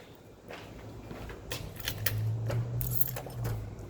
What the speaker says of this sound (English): I'm going to have to get my keys out and open the door